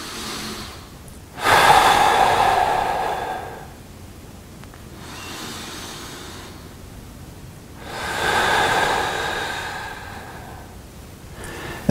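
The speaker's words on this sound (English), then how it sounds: "So here I go again, breathe in." Slow, deep breaths taken during a mobility stretch for mountain biking, two long airy exhales rising and fading several seconds apart, close and fairly soft, with quiet stillness between and no talking.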